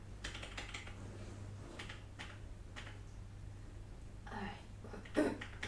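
Quiet keyboard typing at a computer, with scattered soft key taps and a short burst of clicks near the end over a steady low hum.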